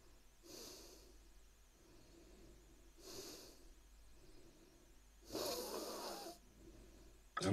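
Breath sounds picked up close on a KIMAFUN 2.4G wireless lavalier microphone: three soft, airy breaths in a quiet room, the last one longer and louder, followed by a brief knock at the end.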